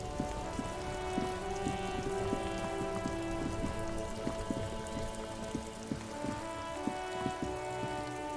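Steady rain patters on surfaces in the video game Disco Elysium, a dense continuous hiss with scattered drops, under a soft sustained musical drone, with no voices.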